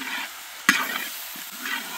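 Radish stir-fry with curry leaves and chopped coriander being stirred in a hot pan, giving a soft sizzle with a sharp scrape of the spoon partway through, close and alone.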